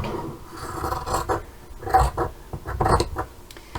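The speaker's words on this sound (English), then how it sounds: "Trim that off, making sure I don't get the backing fabric." Scissors trimming fabric for boho bunting close to the backing fabric, a series of soft rasping cuts and rubbing snips in irregular bursts, close and moderately loud, with no talking.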